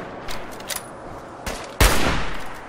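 Gunshots in the video game Fallout 4: a couple of lighter pops early, then one loud, sharp shot with a lingering tail, close and clear, no talking.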